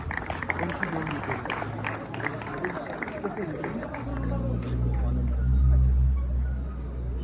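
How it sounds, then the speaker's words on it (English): Applause for prize winners at an outdoor prize-giving event, scattered clapping under a crowd's babble and talk, with a low rumbling noise swelling toward the end. "Give them a big hand."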